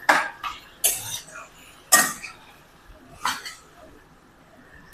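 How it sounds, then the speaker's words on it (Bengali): A few scraping, clattering stirs of chicken in a pan for Afghani chicken, four distinct bursts of scraping spaced unevenly, close and moderately loud. "ভালোভাবে নাড়বো।"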